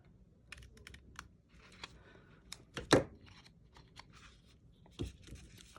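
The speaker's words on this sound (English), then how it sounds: "you're going to take and snip off a little bit on each one of these" Scissors snipping small bits off paper pieces while making a rectangular mini album, a series of short, sharp crisp clicks and cuts scattered unevenly, with one louder snip near the middle, close up and without talk.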